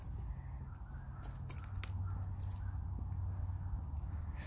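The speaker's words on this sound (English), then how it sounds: "Like there are so many crows" Several crows caw in a New Orleans cemetery, a cluster of sharp calls in the middle, fairly clear over a low steady background rumble, with no speech.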